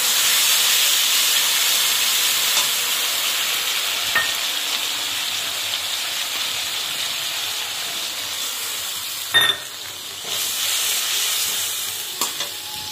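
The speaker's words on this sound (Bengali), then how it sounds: "এখানে যে পাবদা মাছের ঝালটা বসিয়ে দিলাম।" Pabda fish curry cooking in a pan gives a steady, close sizzle and hiss of frying with a few sharp clinks and bumps from the pan, and no talking.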